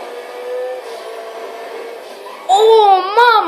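A car engine in GTA V hums at a steady pitch, then revs hard and swoops up and down in pitch near the end, with a voice talking over it.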